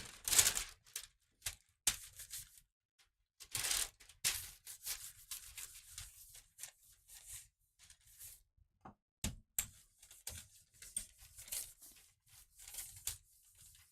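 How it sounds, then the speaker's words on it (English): Crinkly waxy deli paper handled during gel printing of mixed-media postcards, with scattered crackles and rustles coming in uneven bursts and pauses, close and fairly quiet. "The crinkly paper business. Yeah, and the deli paper makes the best sound."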